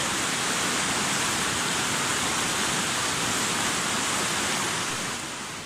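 A mountain waterfall and fast, icy water rush steadily in Ala Archa National Park, a loud, dense roar that stays constant throughout.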